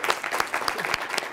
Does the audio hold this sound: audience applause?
yes